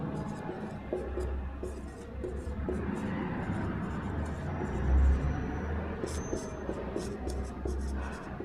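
A teacher writes out the four tense types, pen or chalk scratching in a steady string of short strokes under a low background rumble.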